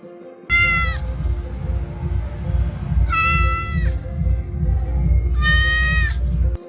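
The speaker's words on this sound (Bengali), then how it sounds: "বিড়াল ছানা। Kitten." A kitten meows three times at even intervals, each call clear and fairly loud over a steady low background hum, with no talking.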